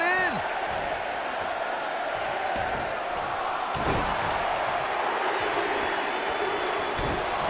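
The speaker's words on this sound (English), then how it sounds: "Listen to this crowd" An arena crowd roars continuously during a WWE 2K19 Royal Rumble match in the video game, a dense steady wall of cheering punctuated by a few sharp thuds.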